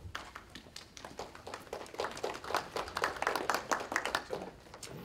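A debate audience claps at the 2016 UMass undergraduate economics debate: fairly soft, irregular applause from many hands that thickens and grows denser toward the end, with no voices.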